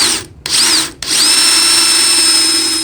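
A power drill bores a pilot hole in wood for hand-built TV unit joinery, a steady close whine running at high speed after two brief stops and restarts.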